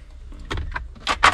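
Glove box of a 2021 Toyota Hilux SRX 4x4 turbodiesel double-cab pickup opens with a few quick plastic clicks and latch snaps close by, ending in two sharper clacks.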